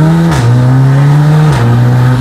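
An Audi S3 sedan with a downpipe and aftermarket exhaust holds a loud, steady rev near the microphone, with a brief dip and step in pitch twice, the same tone repeating each time and with no pops after.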